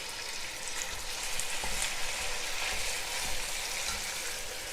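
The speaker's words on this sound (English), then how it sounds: "I've got the ground turkey going in here" Ground turkey for a chili fries in a pan, giving a steady close sizzle with soft scraping and stirring bumps, no talking over it.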